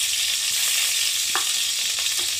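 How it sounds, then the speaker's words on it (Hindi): Ghee melts and sizzles in a kadhai while sooji ladoo is being made, a continuous close, even hiss of hot fat with a couple of faint stirring clicks. "अब हम कढ़ाई में जो है घी डालेंगे, 1 चम्मच, 2 चम्मच और ये 3 चम्मच"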